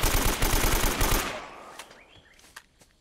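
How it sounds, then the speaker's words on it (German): Automatic gunfire in the Uncharted video game: a loud, close, rapid burst of evenly spaced shots that stops abruptly, followed by a few scattered distant shots and fading echoes. "es hört sich fast so an, als würde jemand schießen"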